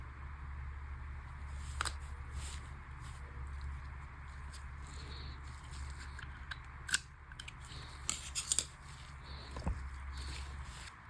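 Gorilla Tape being cut during a BMW S1000RR K67 motorcycle repair makes a few faint, sharp snips and rips, spaced a few seconds apart, over a steady low hum.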